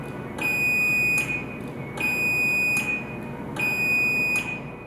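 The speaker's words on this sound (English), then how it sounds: "The opener beeps and lights flash slowly 5 times." Three evenly spaced electronic beeps from a Chamberlain garage door opener during a safety reversal test, each a sharp high tone lasting under a second, with short gaps between.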